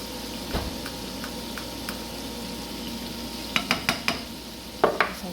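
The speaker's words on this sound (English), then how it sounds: "I'm going to put in about a quarter of a stick of butter" About a quarter stick of butter melts in a pan with a soft, even sizzling hiss, then a quick run of spoon clinks and taps against the pan toward the end.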